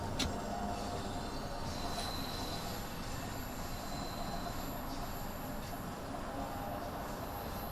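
A train rolls along in the Train Sim World 2 video game, with a steady low rumble of wheels and motor, a faint whine over it, and a couple of small clicks, all at an even, moderate level.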